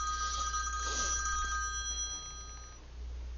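A telephone rings repeatedly for about three seconds with steady electronic tones, loud and close, breaking in on a quiet room.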